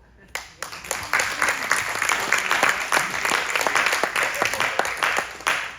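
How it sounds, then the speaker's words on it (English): A live audience in Brights Grove, Ontario bursts into applause: sparse claps at first quickly swell into a dense, loud, sustained wave of clapping that holds steady to the end. "Some of you guys clapped pretty loudly there."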